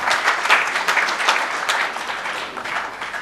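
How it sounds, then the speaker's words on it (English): Audience applause at an annual day oration held at the Taj Coromandel hotel in Chennai, a steady dense patter of many hands clapping throughout, fairly close and loud, easing slightly toward the end. "Please give him a warm round of applause."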